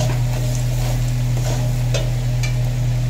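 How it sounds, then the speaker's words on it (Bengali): Kashmiri chili powder is stirred in hot oil while cooking a home-style mutton curry: a continuous close sizzle with a low steady hum beneath and occasional soft scrapes of the spoon in the pan. "এটাকে তেলের মধ্যে ভালো করে নাড়তে থাকবো"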